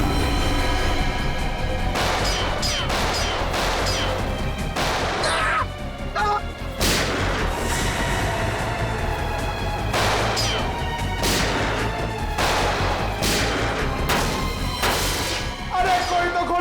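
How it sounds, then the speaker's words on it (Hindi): Gunfire erupts in a tense standoff, with repeated sharp cracks and bangs scattered across the whole stretch over dense, busy background noise, irregular and fairly loud, and no clear speech. "मुझे भी गोली चलानी है।"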